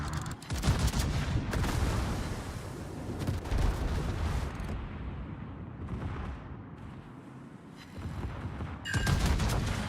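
Warship turrets firing in World of Warships: repeated heavy booming salvos, loud and close, with a rumbling battle din between shots.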